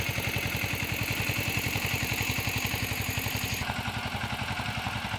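A farm tractor engine runs steadily nearby during field work in rainy weather, a loud, even mechanical chugging throughout with no voices.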